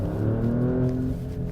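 2020 Alfa Romeo Stelvio Quadrifoglio with a 505-horsepower, 2.9-liter Ferrari-developed twin-turbo V6, giving a loud, steady low engine drone, close and sustained, with no talk over it.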